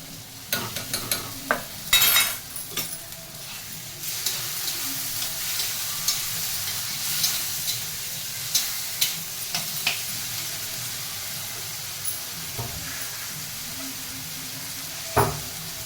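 Onions frying in a pan with ginger garlic paste for a Bacchali leaves curry, a steady sizzle under repeated scraping stirs and clinks of a spoon against the pan, close by.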